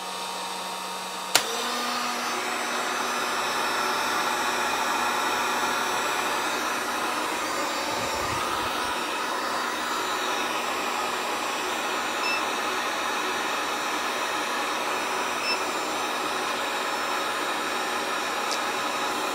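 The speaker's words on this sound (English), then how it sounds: "heat gun in full blast right now" A heat gun blows at full power, powered from a UPLUS 12V LiFePO4 battery; a click starts a steady, loud whooshing roar that holds unchanged throughout, close up and alone.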